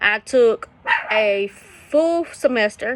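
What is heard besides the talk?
dog barking outside in the background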